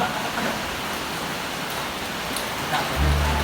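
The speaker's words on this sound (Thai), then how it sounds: "เมื่อไรฝนจะหยุดตกเนี่ย" Rain falling steadily at night in Thailand, a soft even hiss of drops throughout with no speech.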